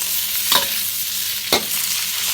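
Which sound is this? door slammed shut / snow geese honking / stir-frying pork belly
stir-frying pork belly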